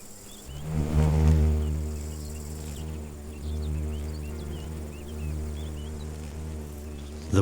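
A poppy mason bee gives a low, droning buzz that swells and fades close by, with faint chirps scattered above it.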